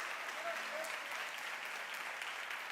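A church congregation applauds in steady, dense clapping throughout, with a voice faintly audible beneath the applause.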